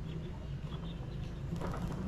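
Pigeons coo softly in low, repeated murmurs, a few birds close by, steady through the stretch with a faint rustle and a bit of higher chirping near the end.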